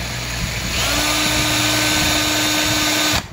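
A power drill spins a motorcycle speedometer cable for a speedo test on a 125Z, a steady high whine that starts, shifts pitch as it loads up, holds for a few seconds, then cuts off, loud and close.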